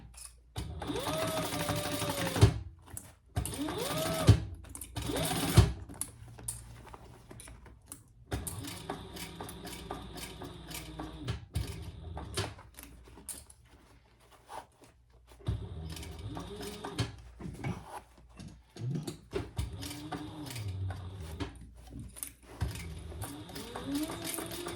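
A sewing machine stitches waxed canvas in a close, rapid mechanical chatter, running in several long bursts broken by short pauses and a few handling clicks.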